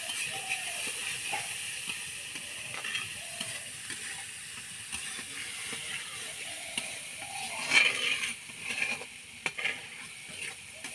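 Garlic and onion fry with fish and Malabar spinach in a pan, giving a soft, steady sizzle with occasional stirring scrapes and clinks at low volume.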